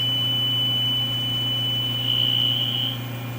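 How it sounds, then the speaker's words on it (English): Overcurrent warning buzzer from the power supply of an HTG System 3A mask aligner, a steady high pure tone over a constant low electrical hum, briefly louder near the end before cutting off. "the power supply will indicate that it is drawing too much current with a buzzer tone such as"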